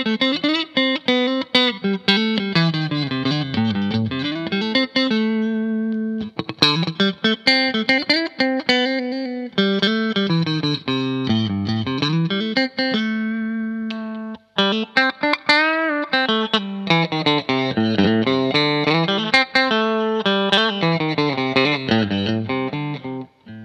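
Fender American Professional II Telecaster electric guitar played through effects, loud phrases and strummed chords with a chorus-like shimmer and some distortion, with brief pauses between runs.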